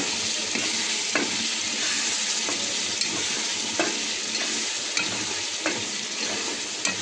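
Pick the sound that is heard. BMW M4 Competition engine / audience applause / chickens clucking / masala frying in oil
masala frying in oil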